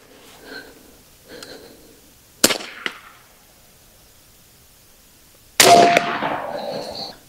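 An AEA Element Max .50 caliber airgun fires, a sharp crack followed by a quick metallic clang from the target, then a second loud shot with a ringing tail after a quiet pause.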